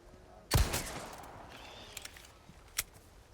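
Gunshots in Resident Evil 4 Remake: one loud, sharp shot early on, a couple of faint clicks, then a second crisp shot near the end against a quiet background.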